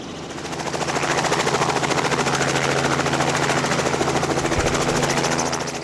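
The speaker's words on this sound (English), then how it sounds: "We've never gone in a helicopter, never flown up in one before, but our pilot Garrett made sure we were comfortable." A helicopter in flight during a passenger ride, its rotor chop steady and loud from inside the cabin, continuous throughout with no talk.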